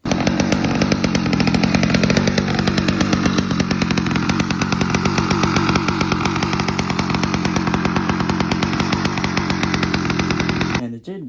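Homemade chainsaw engine runs at a steady high-revving buzz, loud and close, its rapid firing pulses holding constant for about eleven seconds before cutting off abruptly.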